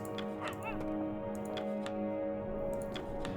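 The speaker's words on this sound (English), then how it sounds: "let's go ahead and pet the dogs because they did a really good job this week" Dogs in the game The Pale Beyond giving short yips and barks, a few scattered sharp calls over a steady droning music bed.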